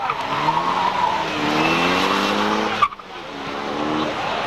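Race cars roar off the start at Seekonk Speedway, loud engines revving and climbing through the gears in the near field, with a brief sharp jolt partway through before the engine drone resumes.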